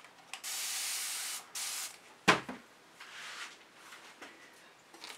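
Cell activator sprays onto a fluid acrylic painting in a few short bursts of hissing mist, one long spray and briefer ones, with a sharp knock in between and quiet pauses.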